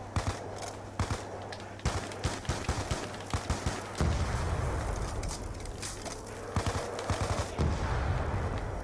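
An M14 rifle fires repeatedly in Call of Duty Zombies, sharp, loud shots in quick clusters over a low steady hum, with no talking.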